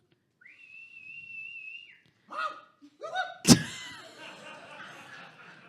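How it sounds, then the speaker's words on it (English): A long, steady whistled note rings out alone at a live comedy show, followed by brief laughter and a sharp thump. "can you do that whistle again"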